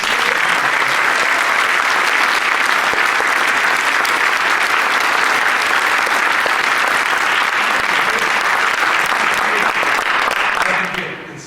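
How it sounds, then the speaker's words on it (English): A large audience at a high school scholastic honors night gives students a long round of applause, loud, dense clapping held steady for about ten seconds before tapering off sharply at the end. "let's give them a round of applause"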